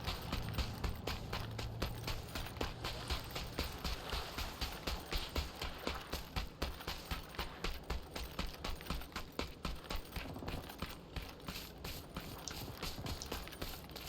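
Running footsteps in the PUBG battle royale video game thud in a quick, steady rhythm for the whole stretch, loud and close over a constant wash of background game noise, with no talking.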